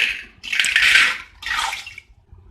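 Water is poured into a pressure cooker holding soaked white peas, two splashing bursts of liquid filling the pot, close and loud, with a short gap between them.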